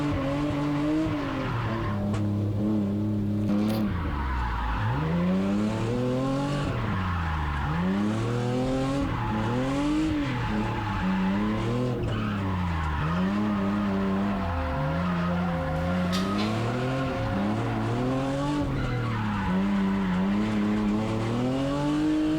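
A stock-angle Hyundai Genesis Coupe drifts with its engine revving up and down in repeated sweeps and its tires squealing continuously, loud and close with no talking.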